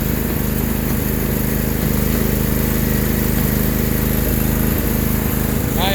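A small Sears loader's 4HP diesel engine runs hard and steady at close range, a loud continuous throbbing drone with the engine straining as it lifts the machine's back wheels off the ground.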